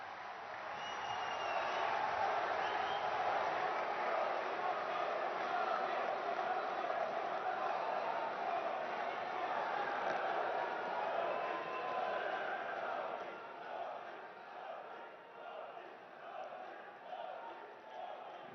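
A large crowd at a public event claps and cheers as the Prime Minister of India is welcomed at the inauguration of the Vande Bharat Express and Ahmedabad Metro. The applause is dense and sustained throughout, then thins slightly toward the end.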